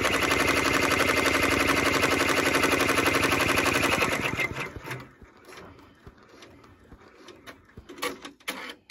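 A sewing machine runs a steady, fast stitching buzz for about four seconds while sewing a tack-down stitch on a hooded towel, then stops, leaving scattered clicks and handling noises.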